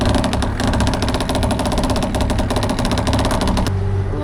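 Twin engines of a sailing yacht run steadily on a still morning in Greek waters near Kilada, Nafplio and Kyparissi, a loud continuous rhythmic diesel chug that shifts in tone near the end.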